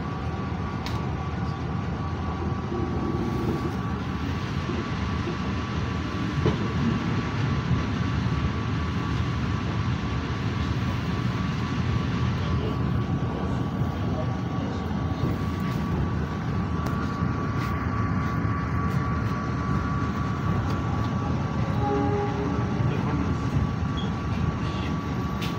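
Interior of the Jayabaya passenger train in Indonesia, near Cirebon station: a steady low rumble of wheels on rail with a constant hum, continuous and moderately loud with no talking.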